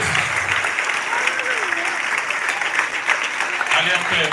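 A church congregation applauds Jesus in loud, steady, dense clapping that fills the room, with a voice calling out over it.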